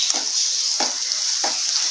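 Nendran banana halwa paste fries in ghee with a steady, close hiss, broken by three evenly spaced scraping stirs of a spoon through the pan; no voices.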